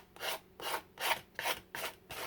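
Coarse side of a sanding tool rubbed along paper and napkin edges of a mini junk journal cover, five distinct rasping strokes in a steady back-and-forth rhythm, close and fairly quiet with no talk.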